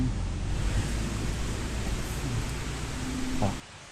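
Rushing water from a waterfall on a forest trail gives a steady, loud broadband roar with no talking, cutting off abruptly near the end.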